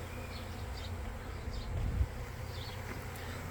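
A swarm of bees buzzes steadily near an apartment complex, a faint continuous drone with occasional individual bees passing closer, no voices.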